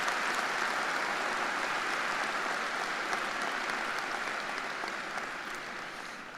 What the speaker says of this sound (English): A round of applause for all of our special guests.